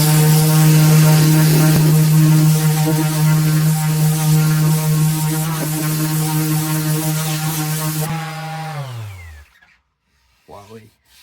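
A MAXXT 150mm orbital sander runs with a loud, steady buzzing hum close by for about eight seconds, then winds down and stops, leaving a brief quiet handling noise at the end.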